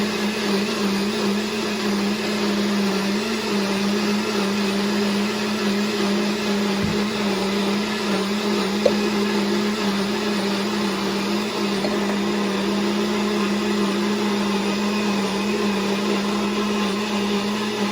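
A blender runs steadily, mixing an iced cinnamon roll protein shake, a loud continuous motor whir with a constant hum that holds for the whole stretch, with no talking.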